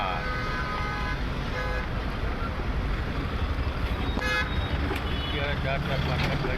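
Heavy traffic backed up after a small Swift car crashed, engines idling in a steady road rumble with a few car horns honking over it, a person talking throughout.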